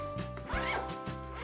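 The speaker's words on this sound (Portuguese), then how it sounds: "aqui, a mala, ela tem um zíper aqui, ó, do lado." A small suitcase's side zipper is pulled open to expand it, a close, quick rasping zip running for about a second with a faint soft rustle around it.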